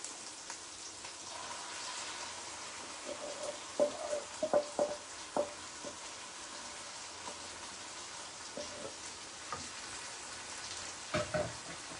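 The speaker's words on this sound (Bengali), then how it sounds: "এখন আমার কাজ এটাকে শুধু একটু ভাজা ভাজা করা।" Blended cauliflower stem paste fries in a pan with a soft, steady sizzle, broken by scattered light scraping and stirring clicks from a utensil.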